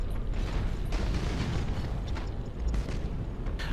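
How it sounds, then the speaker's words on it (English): A boarding torpedo launching from a warship in Battlefleet Gothic, heard as a rumbling mechanical whoosh with creaks and low booms over steady game ambience, with no talk. "I'm firing a boarding torpedo out the front of my ship here."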